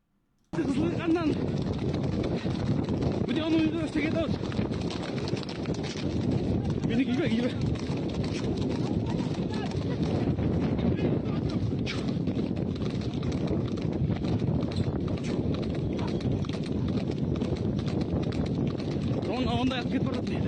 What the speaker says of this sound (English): So this is protesters forming a improvised cavalry unit confronting the government forces on